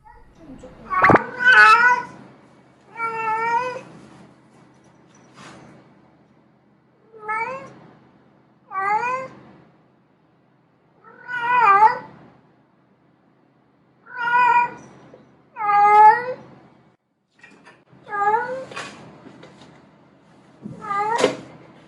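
A cat in heat caterwauls indoors in a long series of about ten drawn-out, wavering yowls separated by short silences, loud and close.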